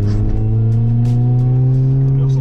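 A Mini Cooper S R53 accelerates hard from inside the cabin, its supercharged engine droning loud with a whine climbing steadily in pitch over about two seconds.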